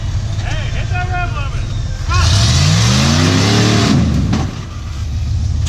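Jeep YJ engine revving hard while climbing a waterfall on an off-road trail, rising harmonic roar loud and close for a couple of seconds, with people shouting and talking before and around it.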